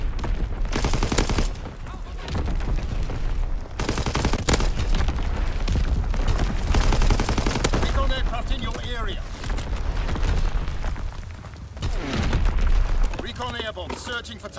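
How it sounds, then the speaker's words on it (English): Fritz X bomb strikes in a video game produce continuous heavy explosions and rapid gunfire bursts, loud and dense throughout, with voices talking in between. "Dropping Fritz X bomb. Firing for full effect."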